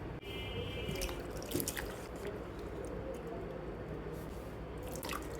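Cut drumsticks being rinsed in water in a bowl, close soft splashing and squelchy dripping with scattered knocks, steady throughout.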